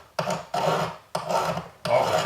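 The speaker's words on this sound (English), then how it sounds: "now I'm filing it down a little bit more" A hand file rasps over a metal ring being roughed out into a hollow form, with four steady, close strokes in an even back-and-forth rhythm and short pauses between them.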